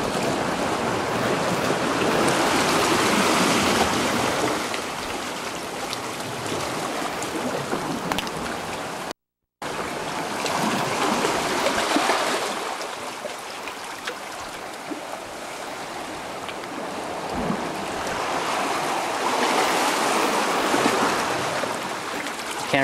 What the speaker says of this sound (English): Can't really see him as the water's moving around